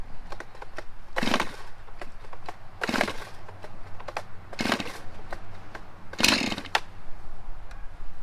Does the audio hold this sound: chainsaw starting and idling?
yes